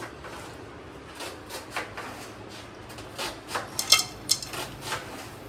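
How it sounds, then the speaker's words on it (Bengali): Whole garam masala spices (black pepper, cinnamon, black cardamom, star anise and cloves) dropped into hot oil for a home-style chicken and potato curry, giving soft scraping, rattling and faint crackling in short bursts, close and fairly quiet. "আমি গোটা গরম মশলা গরম তেলে দেবো"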